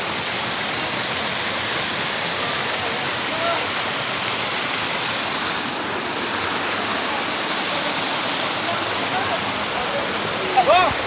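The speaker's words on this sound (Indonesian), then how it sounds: "Kita sudah sampai di air terjun" Pring Jowo waterfall pours in a constant loud broadband rush, steady and unbroken, with a brief faint voice near the end.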